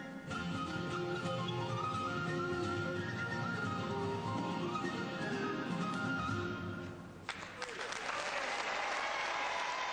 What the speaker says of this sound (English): In spite of the crowd's applause